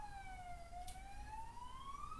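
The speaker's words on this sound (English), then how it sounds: "that's a nice sign with the ambulance going past the window here" An ambulance siren wails from outside a window, a single faint sweeping tone that dips and rises in pitch as it passes at a distance over low background rumble.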